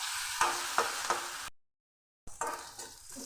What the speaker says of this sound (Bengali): পেঁয়াজ আমি লাল করে ভেজে নেব।